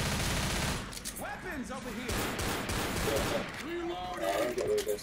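Rapid gunfire bursts crack through a Left 4 Dead match, with voices talking over the shooting in a busy, noisy mix.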